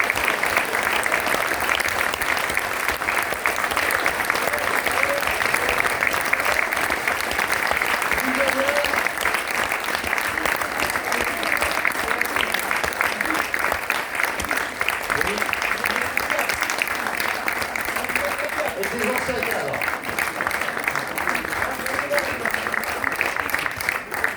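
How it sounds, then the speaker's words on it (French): Sustained applause from a large crowd at a union congress awards ceremony, steady and dense throughout, with faint voices mixed into the clapping. "je vous demande d'applaudir pour le collectif des travailleurs sans papier, Gérard Gonac, Guy Galère et Jean-Bernard Ba"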